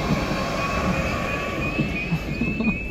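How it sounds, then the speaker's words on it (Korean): A train passing by in Kaohsiung near the Pier-2 Art Center, a steady broad rumble with a faint high whine throughout, continuous and fairly loud with no talking. "야, 기차 지나갑니다."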